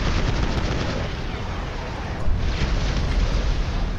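Dense, continuous machine gun fire in GTA 5 with explosive crackling, loud and unbroken throughout, a heavy burst swelling near the middle.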